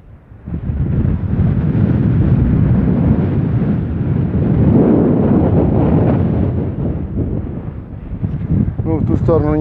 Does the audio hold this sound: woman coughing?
no